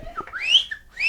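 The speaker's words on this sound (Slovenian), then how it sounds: "Kako zažvižgaš?" A person whistles a short, sharp call, with a couple of rising high tones in quick succession, close and clear and with no speech.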